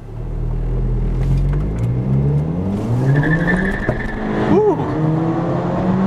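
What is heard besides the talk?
2007 VW Golf GTI Mk5 engine accelerating in sport mode, tunnel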